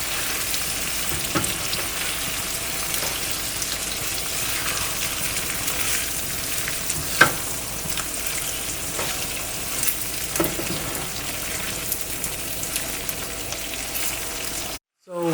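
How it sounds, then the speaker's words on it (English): Mutton liver and masala frying in a pan while being stirred, a steady close sizzle with occasional scrape and clink of the spoon, no talk, ending in a brief silence. "we have been roasting our liver and our masala for 3 minutes now with it all mixed"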